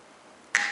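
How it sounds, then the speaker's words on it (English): A bottle of Lost Abbey Judgement Day beer from Port Brewing is uncorked, giving one sharp, close pop followed by a brief hiss of escaping gas. "So decent pop, some good smoke coming off that."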